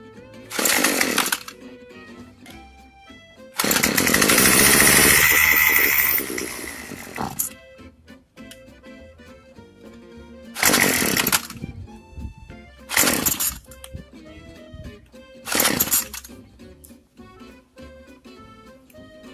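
A small two-stroke engine with a carburetor fault is choked and pulled, sputtering in several short, buzzy bursts, once revving for a few seconds, with gaps of quiet between attempts.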